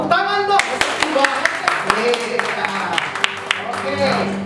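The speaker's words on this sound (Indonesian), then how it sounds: "tepuk tangan dong." Guests clap at a wedding ceremony, scattered distinct hand claps sounding close and irregular while voices talk over them.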